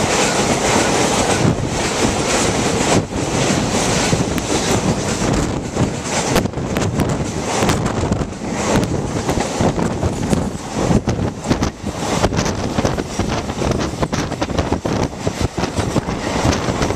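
A train on the Konkan Railway near Udupi rumbles steadily along the rails with continuous wind noise and faint rhythmic clacking, loud and close throughout, no voices.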